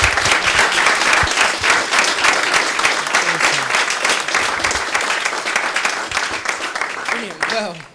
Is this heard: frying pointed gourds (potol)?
no